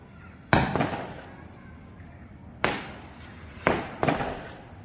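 Four sharp firecracker bangs go off at uneven intervals during a Karva Chauth moonrise celebration, each a sudden loud crack with a short echoing tail, quiet in between.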